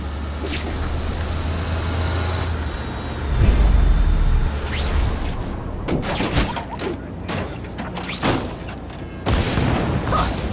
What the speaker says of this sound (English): Friendly neighborhood fireworks